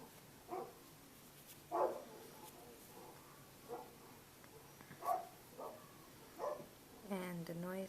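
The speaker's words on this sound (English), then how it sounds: "the noises that you hear is my dogs barking" Several dogs bark in short separate bursts while playing indoors, moderately near, spread across the scene with quiet gaps between yelps, ending in a longer whining, higher-pitched vocal run.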